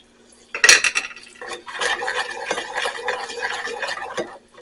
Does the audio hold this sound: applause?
no